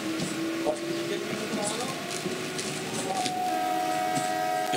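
Barasat–Hasnabad local train running along the line, a steady rumble and rattle filling the clip with brief horn-like tones rising near the end, continuous and close.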